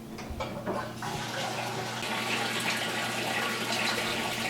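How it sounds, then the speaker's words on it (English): Water gurgles and splashes steadily as it is pumped out of the wet-dry trickle filter beneath an aquarium, a continuous close, moderately quiet flow after a few brief knocks at the start. "I'm going to pump the wet-dry trickle filter empty of as much water as possible"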